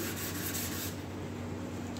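Sandpaper rubs back and forth over a painted part coated with black guide coat on a Honda ATC90 restoration, a soft, close, steady scratching rasp.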